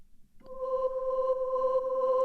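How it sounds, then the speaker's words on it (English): A low tension synth pad for a Drumcode-style techno track, processed through a saturator, compressor and auto filter, enters after a brief pause and holds as a steady, sustained drone with no talking over it. "That's the lower pad."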